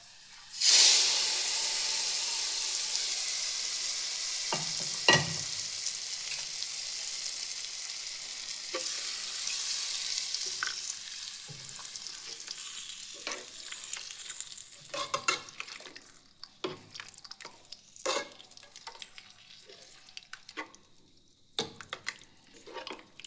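Onion, curry leaves and chilli powder fry for a cucumber curry, starting with a loud hissing sizzle as they hit the hot oil, then easing into a steady crackle broken by scrapes and knocks of stirring.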